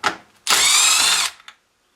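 A power driver fitted with a T20 bit runs in one loud, steady whir of under a second as it backs out a bolt on a Stihl MS 171 chainsaw, with a brief click just after and no talking.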